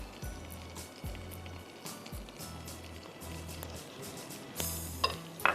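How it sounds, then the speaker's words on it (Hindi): Crushed garlic fries in a pan with a soft continuous sizzle, broken by repeated low scraping stirs and a few utensil clinks near the end, with no talk. "हल्का सा गार्लिक फ्राई हो जाएगा"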